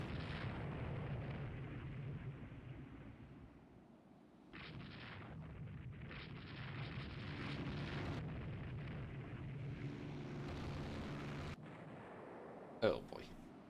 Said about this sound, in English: It's getting more costly by a order of magnitude with every missile that hits a carrier.